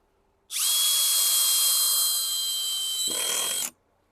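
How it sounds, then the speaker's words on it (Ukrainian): A Metabo BS 18 L BL cordless drill driving a long black screw, one loud continuous high whir lasting about three seconds, dropping slightly in pitch as the screw seats before it stops abruptly. "Беремо трохи довший, чорний саморіз і на п'ятому продовжуємо."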